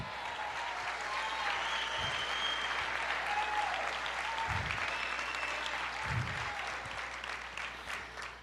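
Church congregation applauding in a sustained, even wash of clapping that runs the whole stretch, with a few low thumps and a faint steady hum underneath; no one speaks.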